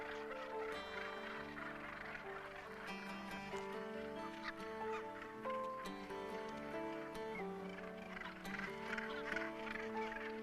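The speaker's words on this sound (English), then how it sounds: "As September comes to the bird castle called Bass Rock, activity in the gannet colony has reached a fever pitch." Dense gannet colony on Bass Rock calling continuously, a loud crowded mass of harsh overlapping cries throughout, though a documentary music bed seems to run underneath.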